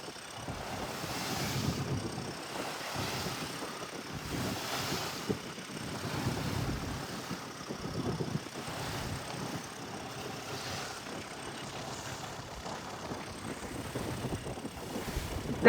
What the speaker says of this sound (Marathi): आता बोट निघते बाहेर.